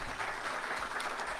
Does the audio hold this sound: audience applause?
yes